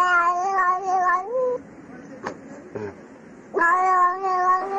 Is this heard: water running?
no